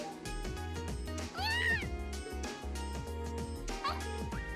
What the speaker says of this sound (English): This meow. This goddamn meow.